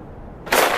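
A single sharp gunshot-like blast bursts in after near silence, loud and close, with a brief ringing tail.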